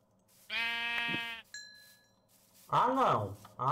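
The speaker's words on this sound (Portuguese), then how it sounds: "Então acho que vai ter que atrair essa ovelha." A Minecraft sheep bleats loudly in a sustained nasal tone, followed by a brief chime and then another wavering bleat. Faint background sounds sit underneath.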